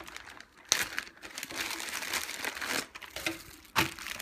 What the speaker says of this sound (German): Eine Plastiktüte.